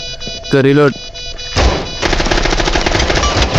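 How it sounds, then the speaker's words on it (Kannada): A voice speaks briefly, then rapid automatic gunfire erupts in a loud continuous burst, close and sharp, in Rainbow Six Siege multiplayer gameplay. "ಎನಿಮಿ ಶೂಟ್ ಮಾಡ್ತೀನಿ"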